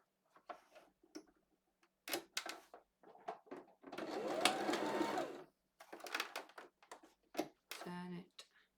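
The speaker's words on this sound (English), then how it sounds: "And now let me just sew the other strap." Domestic sewing machine stitching the fabric strap of an off-shoulder tie-top, a soft rapid ticking run of about a second and a half, set among quiet handling noises and brief clicks.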